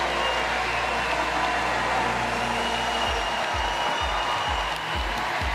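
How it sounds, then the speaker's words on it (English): Wild applause fills a large Paris 2024 Paralympic swimming venue as the medalists of the men's 400-meter freestyle S13 walk out after their victory ceremony, with a broad, steady crowd roar and rhythmic thumping building in the second half. "to wild applause because two are from the host nation."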